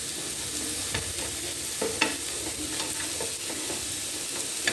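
Potatoes and onions fry in melted butter in a pan, a continuous close sizzle with occasional stirring clicks and taps throughout.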